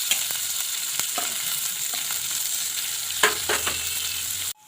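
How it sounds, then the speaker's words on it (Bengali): Chopped onions dropped into hot oil in a pan with bay leaves and fried meat, giving a loud, continuous sizzle with a few scraping stirs and soft clicks throughout, ending abruptly. "পেঁয়াজ কুচি দিয়ে দিচ্ছি।"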